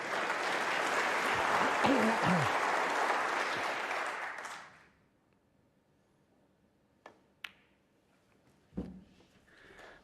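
A snooker crowd applauds loudly for about five seconds after a frame-winning moment in a Masters quarter-final, then the arena falls quiet apart from a few faint knocks and a soft thud.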